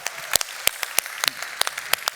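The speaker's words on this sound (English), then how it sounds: "Give me a round of applause." Sparse, scattered hand claps from an audience at a YMCA World Council session, quite faint and irregular, with a little room noise between the claps and no speech over them.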